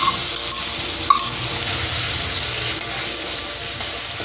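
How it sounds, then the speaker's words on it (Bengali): Ginger, garlic and chili paste frying in a pan while prawn and pointed gourd curry is cooked, giving a steady, close sizzle throughout with a couple of faint utensil clinks. "আদা, রসুন, লঙ্কা বাটাও খুব ভালো করে ভেজে নেব"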